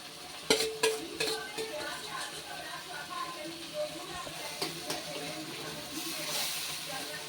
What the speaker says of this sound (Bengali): দইটা মশলার সাথে কিন্তু খুব ভালোভাবে মিশিয়ে নেব।